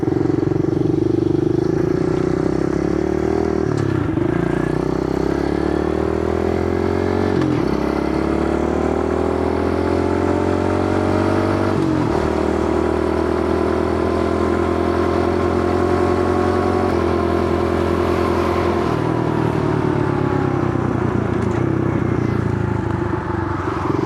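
Pit bike motorcycles riding along a highway in the evening: a steady, close engine drone with small shifts in pitch as the bikes hold speed, plus wind rush, and no talking.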